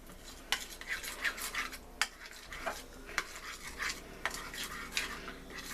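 A spoon stirs a sauce of garlic chili sauce and sesame oil in a bowl, giving close scraping clinks and soft wet swirls with several sharp taps against the dish.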